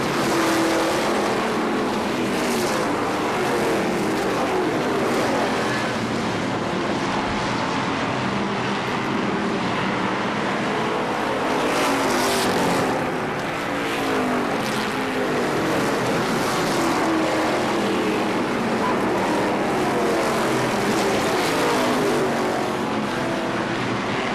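Race cars circling a short oval at KilKare Speedway in Dayton, a continuous dense engine roar that swells and fades slightly as the pack laps, steady and loud throughout with no talk.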